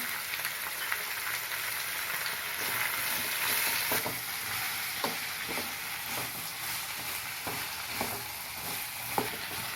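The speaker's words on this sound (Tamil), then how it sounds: "அதுவும் ஒரு நிமிஷம் வதங்கட்டும்" Vegetables and chopped tomatoes sautéing over a full flame for sambar rice, with a constant close sizzle and periodic light scraping stirs.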